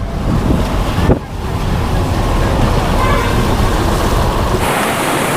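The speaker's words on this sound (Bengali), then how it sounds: "ঝর্ণাটা দেখতে পাচ্ছ, এই ঝর্ণার আওয়াজটা সত্যি অপূর্ব লাগছে, অপূর্ব সাউন্ড" A mountain waterfall in North Sikkim gives a loud, steady rushing roar of falling water, close and constant, with a brief dip partway through.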